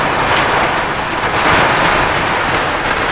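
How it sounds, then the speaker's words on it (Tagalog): Heavy rain pours down beside a roadside in Rockwell during a storm, a loud, dense, unbroken roar of rain on surfaces with wind, close and steady throughout with no voices. "lakas ng ulan yan diba"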